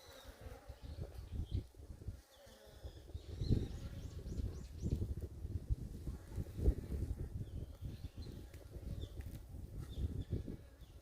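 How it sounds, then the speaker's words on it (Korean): Native Korean honeybees in a winter-managed hive, electrically heated, give off a dense, continuous buzzing hum up close, the swarm's drone swelling and fading, with faint bird calls in the background. "이제 벌이 상당히 많죠"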